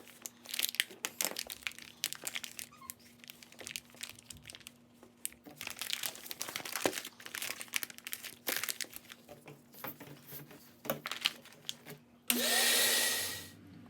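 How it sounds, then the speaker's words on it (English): Plastic vacuum storage bag holding a gun crinkles and rustles up close for a while, then a wet dry vac kicks on abruptly with a loud steady roar as it sucks the air out. "I just use a wet dry vac to suck out all the air"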